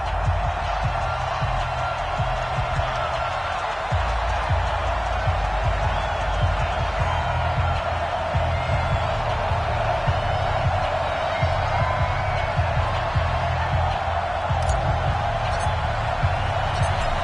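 Steady stadium crowd roar in an NFL video game matchup between the Cleveland Browns and Denver Broncos, a continuous wash of cheering and murmur at even loudness with faint whoops and claps, heard under an announcer's voice.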